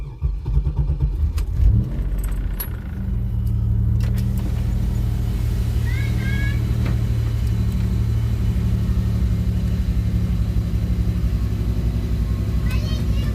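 A 2004 Pontiac Grand Am with a freshly rebuilt 3.8 engine idles up close. After some rattling and clicks at the start, a steady low rumble holds throughout, with a faint squeak midway and occasional voices in the car.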